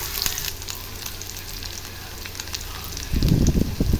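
Large onion dropping into hot sunflower oil with popped mustard seeds for an okra curry tempering, a continuous crackling sizzle that surges louder and heavier near the end as the onion hits the pan.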